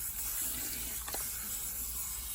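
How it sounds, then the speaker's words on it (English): Cold tap water runs steadily over hair extension wefts during rinsing, a constant close hiss and splash with a faint brief disturbance midway. "you can just let the water run on them"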